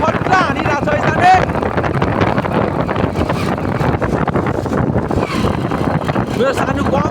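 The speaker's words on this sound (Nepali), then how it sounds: "कस्तो हावा खट्टा हानिरहेको छ" Strong wind buffets the microphone outdoors on the way to Swayambhu in Kathmandu, a rough, steady rumble running beneath people talking throughout.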